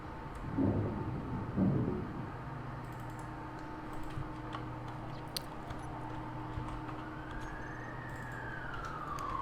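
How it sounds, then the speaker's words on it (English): Keyboard clicks and light tapping come first, then a distant emergency siren, heard through a closed window, rises into a climbing wail toward the end. "That's a really loud siren."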